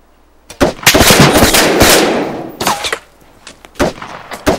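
Gunfire in the video game Arma 3 comes as a sustained loud burst of rapid shots with echoing tails, then a few shorter separate bursts and single cracks.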